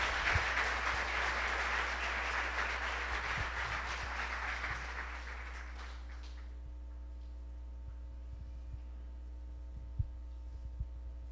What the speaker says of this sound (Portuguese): aplaudindo a Jesus pela vida deles